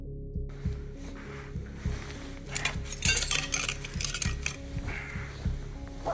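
Hard ceramic clinks and knocks from a clay pot being struck repeatedly to break it, a steady series of sharp taps with louder clattering blows in the middle, fairly close and without talk.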